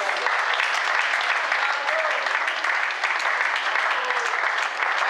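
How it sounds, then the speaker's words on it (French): An audience at a Brussels open-day event claps steadily and densely for several seconds, a full even applause with faint voices mixed in. "Acclamons pour les jolies robes qu'elle a fait"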